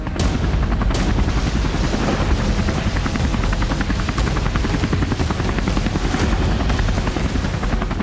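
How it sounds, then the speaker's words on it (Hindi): Loud, continuous rotor thumping of an AH-1Z Viper attack helicopter close by, with a rapid rhythmic chop throughout and no voices. "ये है अमेरिका का AH-1Z वाइपर अटैक हेलीकॉप्टर।"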